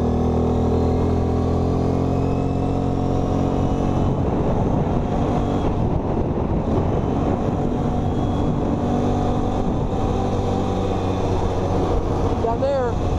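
A Chinese automatic ATV's engine idles steadily and loudly, a constant close rumble with harmonic drone throughout, while someone talks over it.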